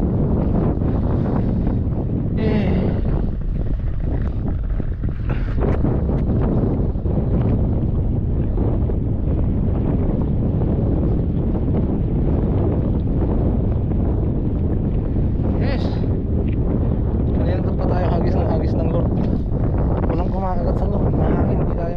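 Strong wind buffeting the microphone in a steady loud rumble while fishing from a boat, with faint voices and boat noise underneath.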